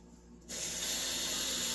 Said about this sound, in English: Now all I'm going to do is add water to it. Here's 1 cup of water going in.